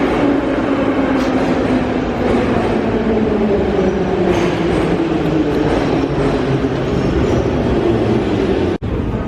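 Metro train in a Kyiv subway station, its loud rumbling run with a slowly falling whine as it moves along the platform, steady and close, with a brief dropout near the end.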